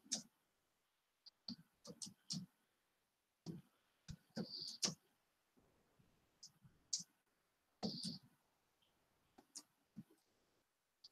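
Sparse clicks of keys on a computer keyboard, quiet and irregular, tapping in short bursts with pauses between.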